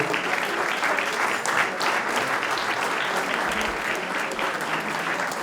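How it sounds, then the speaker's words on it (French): An audience at an oyster-opening contest in Charente-Maritime bursts into dense, sustained applause for the podium finishers, a loud, even wash of many clapping hands with no speech. "vous pouvez les applaudir pour la naissance du podium"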